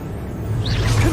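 A Revelio spell cast in Hogwarts Legacy gives a soft rising magical whoosh with a shimmering sweep that swells toward the end over a low steady hum of game ambience, with no talk.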